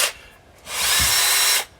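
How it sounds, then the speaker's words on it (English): A cordless power drill with a small adapter winds the stabilizer legs on a caravan, giving a short blip and then a loud, steady whine for about a second before it cuts off, close up and alone. "Replacing it with this small adaptation piece here, sticking it into a drill"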